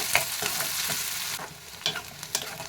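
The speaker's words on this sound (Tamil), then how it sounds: "இப்போ எல்லாம் வெங்காயம் எல்லாம் நல்லா வதங்கிச்சு" Onions and garlic sauté in a pan for a vendakkai gravy, a steady close sizzle broken by several quick scraping stirs and utensil clicks, with no voices.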